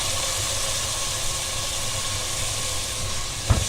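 Tomato sauce sizzles and simmers in a pan, a steady close hiss with low bubbling rumble, ending with a single short knock.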